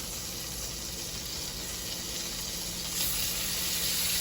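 Shrimp seasoned with bay, parsley, garlic powder, red pepper flakes and onion powder hiss in a hot pan, a steady dense sizzle that swells slightly toward the end, close and loud with no talking.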